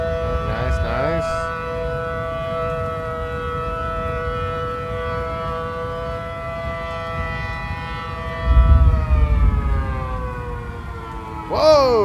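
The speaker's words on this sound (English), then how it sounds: "That siren is loud though." A tornado siren in the Roblox game Twisted drones loud and steady, then its pitch swoops down and up near the start and end. A low rumble swells beneath it partway through.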